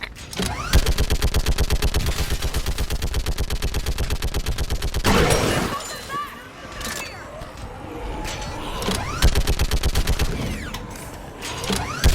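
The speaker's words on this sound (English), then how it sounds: "Get on that gun up there and do some damage!" A mounted heavy gun fires in rapid sustained bursts in the video game Mass Effect 3, loud evenly spaced shots in long strings broken by a pause with explosion-like rumble and game voices.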